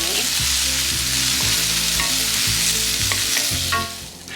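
Vegetables seasoned with salt and pepper fry in a pan with a loud, continuous close-up sizzle, while a utensil scrapes and stirs in a repeating rhythm that eases off toward the end.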